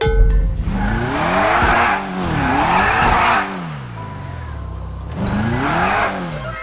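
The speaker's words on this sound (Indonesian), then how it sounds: "mobilku ini suaranya menggelegar" A loud car engine in GTA 5 revs up and down in repeated sweeping surges, with tires squealing over the top; three strong bursts separated by brief lulls, close and dominant.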